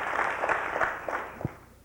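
Audience applause at a political talk on the future of the Republican Party: a steady patter of many hands clapping, moderately distant and fairly soft, fading out toward the end with no voices over it.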